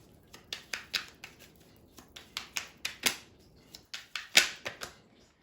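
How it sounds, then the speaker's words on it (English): Tarot cards being shuffled and pulled from the deck, producing a run of crisp, close snaps and riffles in an irregular rhythm, with no one talking. "let's pull 3 tarot cards, see what comes out for this"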